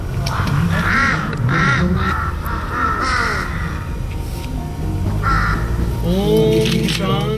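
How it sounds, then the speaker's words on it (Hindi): Crows caw repeatedly in a deserted Kashmir valley, their harsh calls loud and close, sounding in irregular bursts over a steady background with faint voices. "या फिर सन्नाटे को भेदती कौओं की आवाज"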